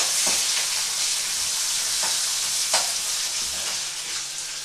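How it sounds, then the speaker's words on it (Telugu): Grated onions frying in a pan for a paneer oats dosa give a steady, close sizzle and hiss throughout, with a few brief stirring scrapes and no one talking. "ఉల్లిగడ్డలు, ఉల్లిపాయలు, తురిమిన ఉల్లిపాయలు వేసుకొని మంచి వేగనివ్వాలి"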